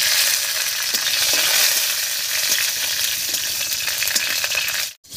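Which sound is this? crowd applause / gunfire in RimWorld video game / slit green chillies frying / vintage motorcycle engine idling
slit green chillies frying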